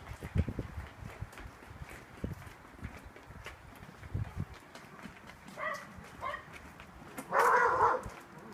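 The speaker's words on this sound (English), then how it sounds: "I hear a dog." A dog barks a few times in the distance on a cold, rainy walk, short sharp yelps rising near the end over footsteps and damp outdoor ambience.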